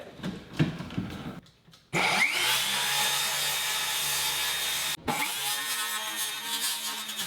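A circular saw with a full-size 7 1/4 inch blade spins up and cuts into drywall for about three seconds with a loud whirring roar. It stops briefly and then cuts again, preceded by some handling noise.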